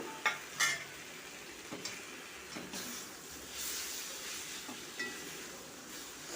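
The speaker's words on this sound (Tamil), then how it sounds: "நல்லா ரெண்டு நிமிஷம் நல்லா கிளறி விடுங்க காய் வேகட்டும்" Soft sizzling in a pan with occasional scrapes and clinks of a spoon stirring vegetables for spicy kaara idiyappam, quiet and close, no talking.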